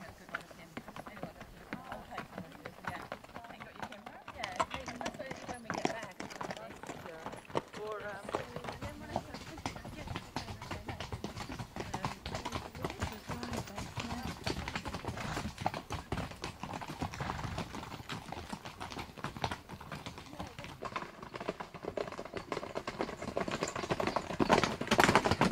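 Horse hooves clip-clop steadily through a ride across varied farm landscape in Spain, a continuous rhythmic patter of footfalls with people talking over it throughout.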